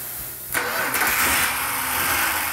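A 1971 Dodge Demon 340 Six Pack V8 engine cranks briefly, then catches and roars to life, settling into a loud steady idle up close.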